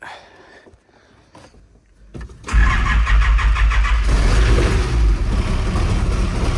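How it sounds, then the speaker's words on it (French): A Nissan Patrol pickup diesel engine cranks after a few quiet clicks and fires up, settling into a loud, steady, rough idle close by. "j'ai rebranché la batterie en espérant que les bougies de préchauffage soient bonnes pour le démarrage"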